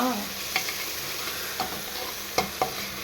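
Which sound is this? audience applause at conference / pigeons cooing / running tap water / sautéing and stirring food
sautéing and stirring food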